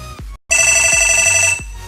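A loud, close electronic phone ringtone of the iPhone kind, bright sustained tones that repeat in short cycles after a brief gap of silence.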